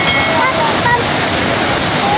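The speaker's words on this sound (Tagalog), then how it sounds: "narito ang kaduhang falls guys, gamay" A small waterfall, the second falls at Tinuy-an Falls in Bislig, Surigao del Sur, roars in a dense, steady wash of rushing water, loud and close, with a faint voice briefly audible beneath it.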